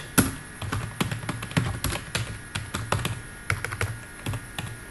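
Rapid keystrokes on a computer keyboard while a search query is entered, with irregular bursts of close, crisp clicks and taps that continue steadily throughout.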